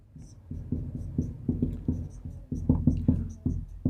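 Pen or marker strokes writing out a trigonometry equation, a steady run of short scratchy strokes close up, with a low voice murmuring faintly beneath.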